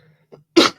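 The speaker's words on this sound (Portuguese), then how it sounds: "Ai, tosse, velho." A single sharp cough bursts out close and loud after a brief faint breath, ending abruptly in under a second.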